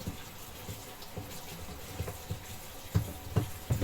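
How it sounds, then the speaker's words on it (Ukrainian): Warm water poured onto soil with peat in a seed bed for sowing dill, a soft continuous trickle with low splashing pulses, growing somewhat stronger toward the end. "І трішечки її проливаємо теплою водичкою."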